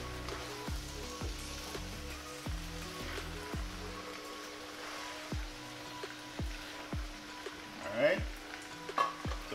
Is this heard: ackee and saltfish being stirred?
yes